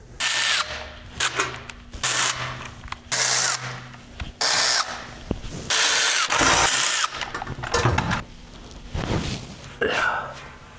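A power tool drives out the 15 mm skid plate bolts on a Jeep JK Rubicon, firing in loud, repeated whirring bursts with short pauses between them.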